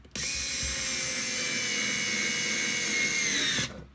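An IKEA FIXA 3.6V cordless screwdriver drives a 4 mm by 2 cm screw in one steady, close whine lasting several seconds before it stops abruptly, with no voices.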